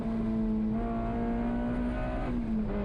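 A race car in a racing video game howls through turn 1 at Road America at about 160 mph, a loud, steady engine tone held close with a slight pitch drop near the end.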